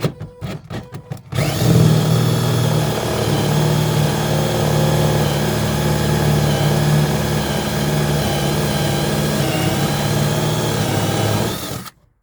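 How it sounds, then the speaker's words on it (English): A power drill with a Forstner bit whirs steadily for about ten seconds, boring into wood after a few sharp knocks at the start. "I'm going to drill it out just a little more."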